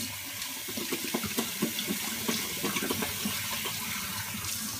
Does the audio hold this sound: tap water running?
yes